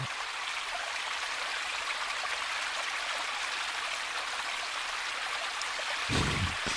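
A river rushes steadily through the dark beneath a manhole in the PlayStation horror game Twilight Syndrome, a continuous close wash of flowing water with a brief surge near the end.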